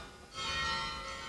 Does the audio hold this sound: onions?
no